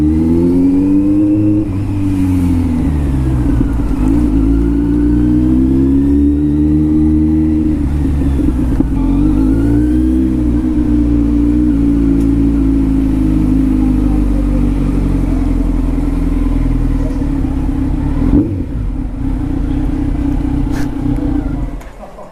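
A Kawasaki Z motorcycle fitted with an Arrow Pro Race titanium slip-on exhaust is ridden, its engine droning loud and close throughout with rising and falling revs, and a brief burst of throttle near the end.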